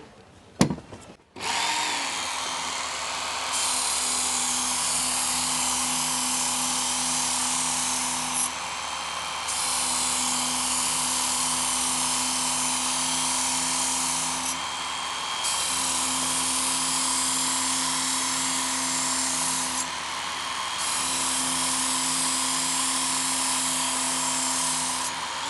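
A Work Sharp electric sharpener runs at medium speed on a knife, giving a steady, high whining motor drone with a few brief dips as the blade passes. It keeps up continuously for a long stretch, moderately loud, with no talking.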